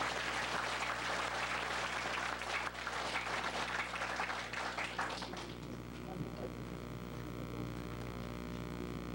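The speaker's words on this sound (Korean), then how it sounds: "다 같이 박수로 보내겠습니다" Congregation applauding at a church founding anniversary service in Korea, a dense steady wash of clapping for most of the span that thins toward the end, with organ-like tones and a voice continuing underneath.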